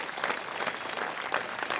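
An audience at a tribute concert applauds the band with steady, dense clapping throughout.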